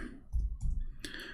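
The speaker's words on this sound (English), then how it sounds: "if we type the word ahad here, and I will type it in front of you, Abdul" A computer keyboard is typed on to enter a search word. A few quick key clicks come up close over a brief moment, with no talking over them.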